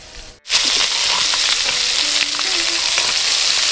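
Soaked soybeans hit hot oil in a pan for khichuri, a sharp burst giving way to loud, steady sizzling and frying with occasional stirring scrapes, close up and with no voices.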